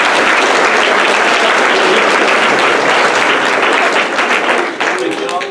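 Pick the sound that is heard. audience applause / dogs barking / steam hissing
audience applause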